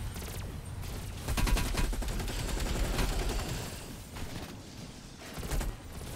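Rapid hip-fire gunshots in a Call of Duty Zombies match on Mauer Der Toten: sustained bursts of loud, close automatic fire with brief lulls, rising again near the end.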